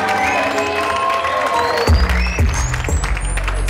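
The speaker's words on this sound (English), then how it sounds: "Clap it up, man." An audience at a comedy show applauds and cheers at close range, a dense wash of clapping mixed with crowd noise and a few whoops, while low rumbling thumps come in near the end.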